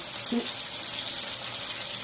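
A steady hiss of water pouring continuously into mung beans, with a brief voice near the start.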